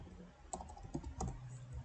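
A handful of quick keystrokes on a computer keyboard click in a short, uneven burst, faint and close with no talking.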